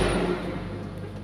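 A Toyota Kijang engine with a carburetor idles steadily at around 2200 RPM, giving a constant low hum with a faint whine above it, heard close and alone for just over a second.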